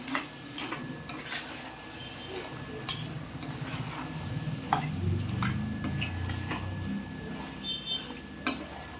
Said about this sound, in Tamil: நல்லா கலரி விடுவோம்.